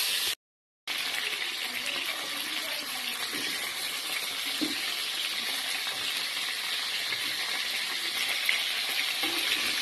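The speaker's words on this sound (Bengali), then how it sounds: "এবার একে একে নুন হলুদ মাখিয়ে রাখা মাছগুলোকে সুন্দর করে ভেজে নেব।" Salt-and-turmeric-coated prawns sizzle steadily in hot mustard oil in a pan, a continuous close crackling hiss broken by one brief gap near the start.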